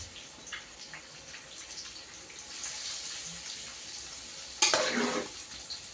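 Fish frying on a hot tawa in a home kitchen gives a steady, soft sizzle throughout, with a louder burst of crackling spatter near the end.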